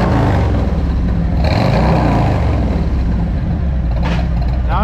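A 2022 Harley Road Glide fitted with a TAB Performance Zombie exhaust idles in neutral with a loud, deep, lumpy rumble, and someone talks over it.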